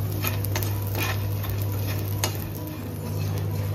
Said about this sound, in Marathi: हा डिंक असा घी मध्ये टाकला ना का असा एकदम फुलतो।